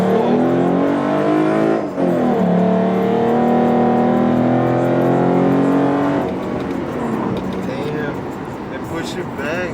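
A tuned Ford Mustang V6 accelerating hard, engine loud and close with rising harmonic tones through a long pull, easing off near the end; voices talk over the engine noise.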